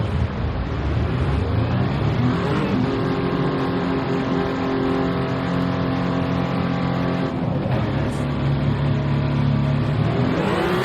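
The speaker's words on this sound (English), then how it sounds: "Couple of hypercars leaving now." Racing video game hypercars pull out of the pits at Interlagos in an endurance race, engine whine rising and falling through gears as several cars accelerate away, steady and fairly close.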